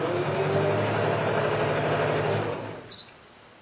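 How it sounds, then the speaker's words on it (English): A sewing machine chain-sews green and floral quilt strips together, running as a steady continuous motorized hum for most of the moment before stopping abruptly, with a brief higher squeak near the end. "So I'll be sewing for a while."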